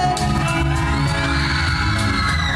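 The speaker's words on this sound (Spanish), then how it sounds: "A ver, un grito fuerte." A crowd of women at a rally shouts loudly together in one sustained, dense collective yell that stays strong and steady throughout.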